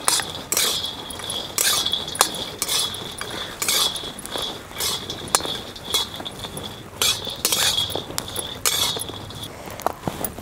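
Garlic and peanuts dry-roasting in a pan for Maharashtrian green chilli thecha, heard as near, irregular clinks and scrapes of a spatula against the metal pan, with faint sizzling between the strokes.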